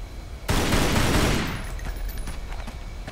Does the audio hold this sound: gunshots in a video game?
yes